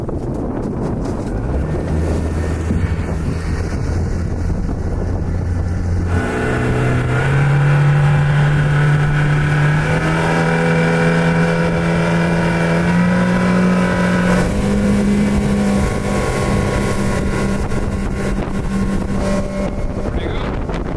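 A repaired boat engine on a test run drones steadily, its pitch climbing and shifting as it revs, with wind buffeting the microphone and water noise underneath.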